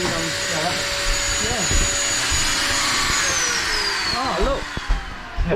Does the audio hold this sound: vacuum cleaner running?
yes